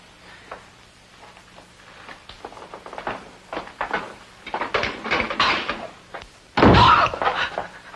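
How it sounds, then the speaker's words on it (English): A cellar door slams shut with one heavy, loud bang near the end, preceded by a run of shuffling knocks and bumps, close by. "The cellar door shut."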